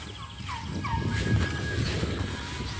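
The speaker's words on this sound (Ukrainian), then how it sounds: "Індики пасуться." Turkeys grazing on a farm gobble in short, warbling calls, a couple of bursts early on over a steady outdoor rumble, moderately close.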